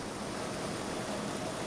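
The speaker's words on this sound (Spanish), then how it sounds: "la máquina escupe el exceso de agua" Excess water gushes steadily from a salt harvesting machine working a moist salt crust on an arid steppe, a dense, even rushing splash heard close and alone.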